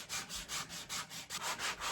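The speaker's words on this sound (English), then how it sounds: "I inevitably do most of the early sanding on all spars with shaped foam blocks and 60 grit paper." A wooden boat spar is hand sanded with a shaped foam block and 60 grit paper, giving about eight rhythmic back-and-forth rasping strokes, close and fairly quiet, with no talking.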